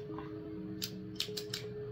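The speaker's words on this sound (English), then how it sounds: "We're gonna go ahead and straight cut it" Drew Estate Factory Smokes Churchill cigar, seven inches long, being straight cut with a cutter, a few brief crisp snips over a low steady background hum, close and quiet.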